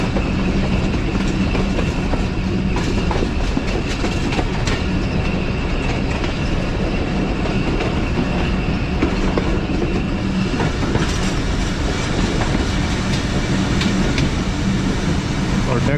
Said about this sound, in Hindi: ये सुबह 8 बजे ट्रेन हमारी पहुंच चुकी है टेक्सला छावनी जंक्शन पे।